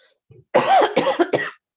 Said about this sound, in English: I need to mute because I'm going to keep coughing